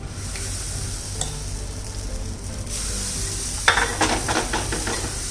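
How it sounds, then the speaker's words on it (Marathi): Dosa batter sizzles on a hot tawa with a steady hiss that swells partway through, along with faint scraping and spreading noises near the end. "आता तवा तापलेला आहे, गॅस बारीक करायचा आहे आणि आता डोसा घालूया."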